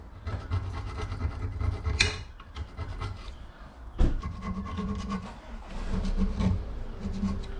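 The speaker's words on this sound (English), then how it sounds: "You can have a little bit of a scrape around with a screwdriver if you need to" A screwdriver scrapes and rubs around the front brake hub of a 2010 Vauxhall Corsa SXi 1.2 petrol, giving irregular gritty rasping strokes close up, with a couple of sharper metallic knocks.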